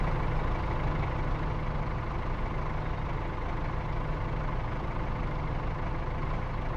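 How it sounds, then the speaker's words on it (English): Tractor engine in Farming Simulator 22 held at high revs, a steady, loud, droning mechanical hum that runs unchanged and alone for the whole stretch. "I best leave the engine running high."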